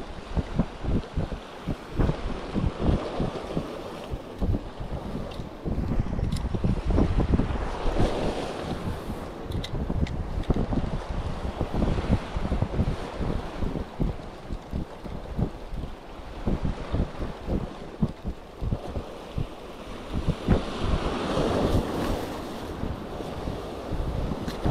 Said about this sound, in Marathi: लाटा बनतात मोठ्या हळूहळू.